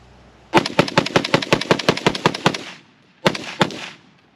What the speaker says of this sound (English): My FN Scar 20S chambered in 308.